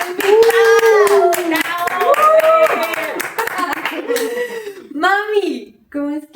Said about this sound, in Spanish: voy a pedirle a producción que me dé un aplauso para esta